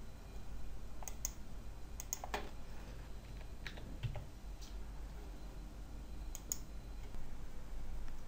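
A simple password typed on a computer keyboard: scattered, light key clicks in small bursts, close and fairly quiet against a faint steady hum, with no talking.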